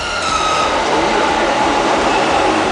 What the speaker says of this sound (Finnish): ja juna tuli